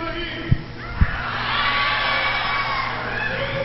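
A church congregation shouts together on request, a swelling mass of voices rising after two sharp knocks and sustaining as a broad crowd yell.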